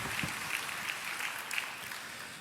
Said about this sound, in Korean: 감사와 영광의 박수 올려드리시겠습니다.